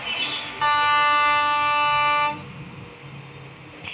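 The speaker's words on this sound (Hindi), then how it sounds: "चलो फिर हॉर्न बजाते हैं, डिपार्ट करते हैं" Horn of a Mumbai EMU suburban train in a train simulation game, one sustained harmonic blast lasting nearly two seconds, loud and clear over quiet ambient cab noise.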